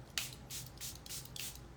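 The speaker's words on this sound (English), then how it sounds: "I am gonna use a setting spray." Makeup setting spray hisses in four short, soft bursts in quick succession, close by and quiet, with light rubbing in between.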